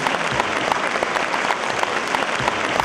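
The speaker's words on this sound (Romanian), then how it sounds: "Aplauze." A crowd claps at an Aromanian spring celebration in Constanța, with dense, steady applause throughout, loud and close, and no voices over it.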